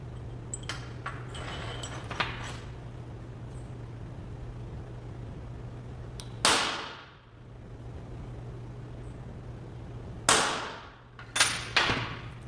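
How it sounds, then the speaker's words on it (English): A few sharp metallic taps of a hammer on a center punch into metal sound at irregular intervals over a low steady hum, with some quieter clinks earlier, close by. "I'm going to lie in the center, and we're going to center punch it."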